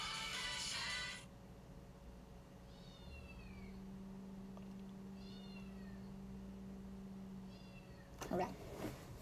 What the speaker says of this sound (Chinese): 外面是猫叫声。